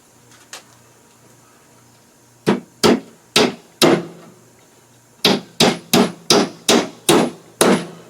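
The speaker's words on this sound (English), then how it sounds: "I think you all understand how to drive a nail or two, especially when they come pre-drilled" A hammer drives nails into a pre-drilled wooden honey super box, with a few spaced strikes followed by a quicker run of about eight sharp, close blows.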